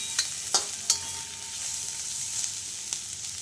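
A spoon stirs a dry potato vegetable dish with tomato and coriander in a pan, several distinct scraping clicks over a soft continuous sizzle, quiet and close with no talking.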